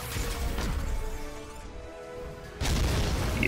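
A spaceship weapon fires in the space game Holy Potatoes! We're in Space, with a heavy booming blast, a short lull, then a second loud crashing impact near the end.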